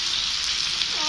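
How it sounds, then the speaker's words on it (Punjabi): Seekh kebabs sizzling on a hot tawa griddle, a loud, continuous, steady frying hiss close up, with no speech over it. "ਮੈਂ ਤਵੇ ਦੇ ਉੱਤੇ ਗ੍ਰਿਲ ਕਰਨਾ ਹੈ ਨਾ"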